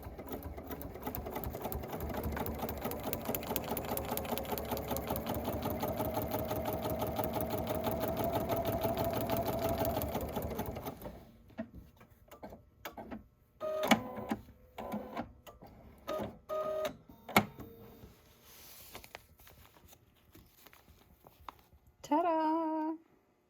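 A sewing machine stitches a quilt block with a steady, fast mechanical whirr for about ten seconds, then stops and gives way to scattered short bursts of stitching and handling noises.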